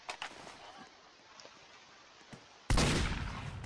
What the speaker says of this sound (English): I decided to shoot that statue